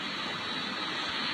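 Helicopter close by in the video game Call of Duty, a dense continuous engine roar with steady rushing noise, loud and unbroken with no voices.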